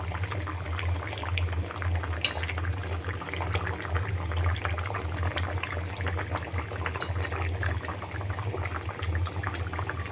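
A pot of thin tilapia fish curry with potatoes and tomatoes bubbles at a steady, close, fairly loud simmer for the whole stretch, a dense continuous burble with no voices.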